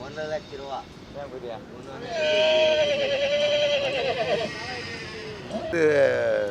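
A country horse at the Thiruvannamalai festival horse market gives a long, loud whinny amid crowd noise, with people talking nearby before and after.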